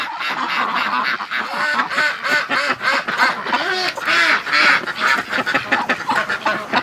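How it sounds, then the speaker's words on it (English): Ducks in a pen quack repeatedly in a busy, overlapping chorus, loud and close with rapid nasal calls continuing throughout. "Hello, ducks! Oh, my duckies."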